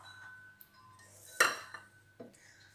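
Washed cowpeas and green plantain peel go into a pressure cooker with a few quiet metallic clinks and one sharper clatter, heard close in a calm kitchen.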